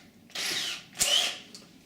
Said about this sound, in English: keeping the drill level, drill through the door.